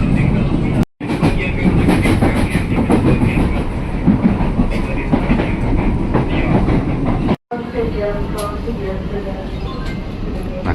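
A KRL commuter train rolls into Gang Sentiong station with a loud, steady rumble and rattle and wheel clatter, and a voice speaks over it.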